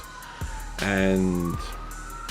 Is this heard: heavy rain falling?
no